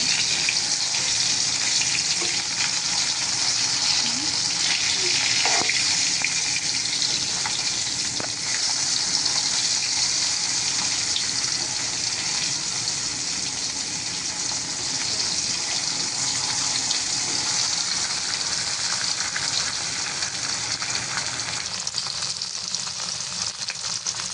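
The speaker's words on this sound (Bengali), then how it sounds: "তো আমার কিন্তু মাছগুলো ভাজি হয়ে গেছে তো এখন আমি উঠাই নিতেছি" Pomfret fish frying in oil in a pan gives a dense, unbroken crackling sizzle that holds steady and loud for the whole stretch, up close, with no one speaking.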